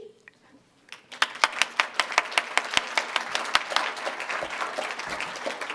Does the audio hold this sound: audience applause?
yes